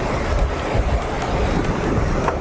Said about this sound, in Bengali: আর কি সুন্দর যে হাওয়াটা দিচ্ছে